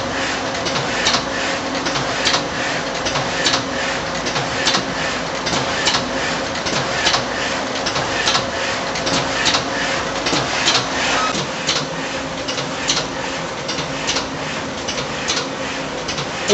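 A FA-ST servo overwrapper machine wrapping tea boxes at speed 60, a dense, fast, regular ticking and clattering over a constant mechanical hum, loud and continuous.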